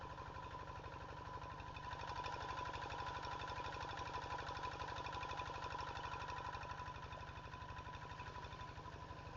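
A Kubota RD 85 diesel engine drives an NS 80 water pump that irrigates rice fields, a steady, fast, knocking chug that runs evenly throughout at a moderate distance.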